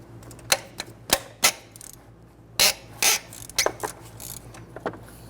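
A 15mm wrench loosens the alternator bolts on a 1999-2004 Jeep Grand Cherokee 4.7L V8, with a series of sharp, close metallic clicks and ratcheting snaps in irregular bursts.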